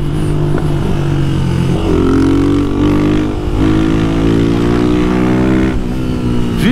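Two Honda Twister motorcycles, a 250 with a modified camshaft and a stock 300, ride side by side with a loud, steady engine drone that rises and falls slightly as they hold speed together.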